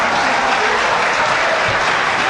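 An audience applauds loudly and steadily, a dense wall of clapping that stays even and close from start to finish.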